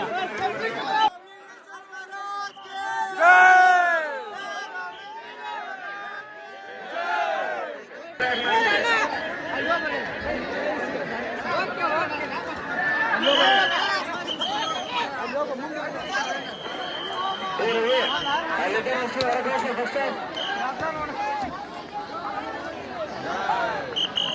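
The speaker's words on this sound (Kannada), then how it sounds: "ಸಿಕ್ಕಾಪಟ್ಟೆ ಗದ್ದಲೈತಿ." Noisy crowd commotion at the Ramalingeshwara Kamanna festival in Navalgund: dense overlapping chatter and calls fill the air, with a few clear nearby voices at the start before the babble thickens and stays busy throughout.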